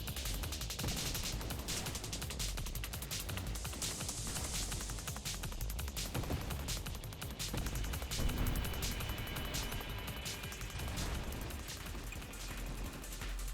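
Dense, continuous rapid gunfire and explosions from a video game boss fight, an unbroken wall of bursts at moderate level with no pauses, no speech heard.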